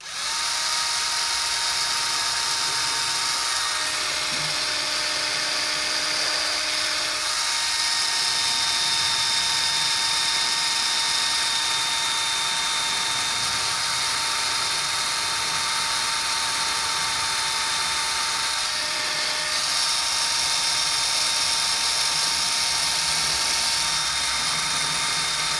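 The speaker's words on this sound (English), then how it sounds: "my trusty little drill." A small electric drill whines steadily and continuously while boring into plastic hoop tubing, loud and close, with slight shifts in pitch as the load changes.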